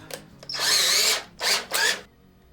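A cordless drill whirs in three bursts while drilling small pilot holes, one long run followed by two shorter ones, close by with no talking.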